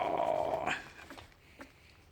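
A dog growls close by, a low, rough, sustained rumble that fades into softer grumbles.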